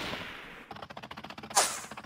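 Gunshots in a Fortnite animation, a rapid burst of sharp repeated shots in quick rhythm, followed by a bright louder crack near the end.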